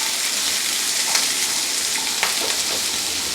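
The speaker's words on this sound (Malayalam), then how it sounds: "ഈ ചെറിയ ഉള്ളി സവോളയും നന്നായിട്ട് നമുക്ക് സോട്ട് ചെയ്യണം കേട്ടോ" Small shallots and sliced onions sauté in hot oil in a pan for a tuna curry, giving a constant close sizzle with occasional soft stirring clicks and no speech.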